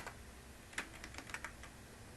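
Short bursts of keystrokes on a computer keyboard, a quick irregular patter of clicks close by and fairly quiet, with no talking.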